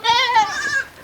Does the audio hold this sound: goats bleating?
yes